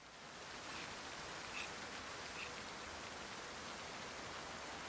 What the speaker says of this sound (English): Look at this rain, it's ridiculous.